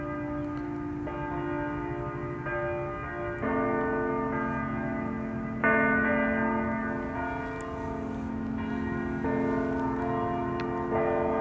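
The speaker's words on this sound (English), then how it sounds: "Love that church bell." A church bell rings out steadily, its tolls overlapping into a sustained, resonant peal that swells at intervals, with no voices.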